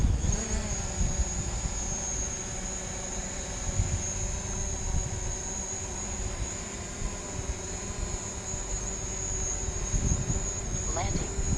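A small drone hovers and flies toward a table to land, its propellers giving a steady high buzzing whine with a constant engine-like hum throughout, close and loud, with a person speaking over it.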